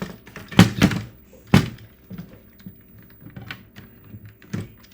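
The keyboard of an Amiga 600 home computer is pushed into its case, giving close plastic clicks, knocks and thuds in an irregular run, loudest early on and fading to lighter taps.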